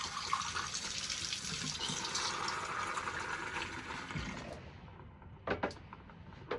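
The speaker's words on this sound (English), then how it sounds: "I'll take my cup and my portafilter and actually warm it up with some hot water." Hot water runs from an espresso machine to warm a cup and portafilter before making milk drinks at home. A steady rushing stream continues at close range, then cuts off and leaves a few faint drips and clinks.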